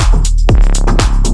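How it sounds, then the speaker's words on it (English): Layered EDM bass line with a thick Reese bass, loud and full, a deep sustained low-end synth with pitch sweeps and rhythmic pulses over about a second and a half. "this is the bass line for one of my upcoming releases"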